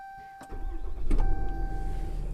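A RAM Heavy Duty pickup's 6.7 liter Cummins diesel cranks and fires, a short starter whine followed by a deep, rumbling idle that settles in close by.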